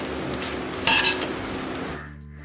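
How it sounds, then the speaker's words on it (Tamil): Curry leaves roasting in a pan over a low flame, a soft steady sizzle with scraping and stirring against the metal, one brief louder stir in the middle, fading near the end. "இந்த மாதிரி சிம்மில் வச்சு இந்த மாதிரி நல்லா முறுமுறுன்னு ஒரு 10 நிமிஷம் வறுத்து எடுத்துக்கணும்."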